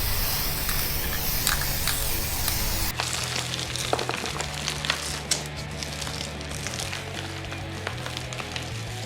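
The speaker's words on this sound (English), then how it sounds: "we're gonna spray the whole thing with like a spray adhesive, kind of like a glue" Spray adhesive hisses from a can onto a Halloween graveyard skeleton prop, a close, steady aerosol rush that grows louder and denser after the first few seconds and keeps going without a break.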